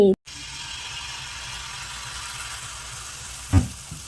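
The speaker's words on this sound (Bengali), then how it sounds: "সেটা দিয়ে এখন ভাজা হচ্ছে তেলের পিঠে" Sweet pitha batter fries in hot oil at home, giving a steady, even sizzle that runs through the whole stretch, with a short clatter near the end.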